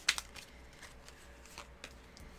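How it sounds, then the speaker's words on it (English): A deck of tarot cards is shuffled close by in a brief, crisp riffle followed by a few soft, scattered card flicks, with no talking. "Sorry, I didn't shuffle this deck well enough."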